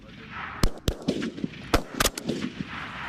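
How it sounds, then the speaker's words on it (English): Gunfire from a FAMAS assault rifle on a French Foreign Legion firing range: several loud, sharp single shots in an irregular sequence, close by, with fainter reports and background noise between them. "But firing the FAMAS, to give it its proper name, can be somewhat unsettling the first time around."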